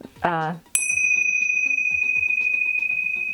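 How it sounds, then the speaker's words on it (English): A pair of tingsha chimes struck together to cleanse crystals rings out in one bright, sustained tone that slowly fades, just after a brief voice. "chime them like this, or you could use a bell and tinkle it around your crystal"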